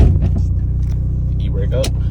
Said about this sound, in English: Don't mind the rattling of my exhaust leak I got right now.